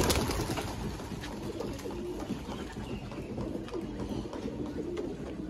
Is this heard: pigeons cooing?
yes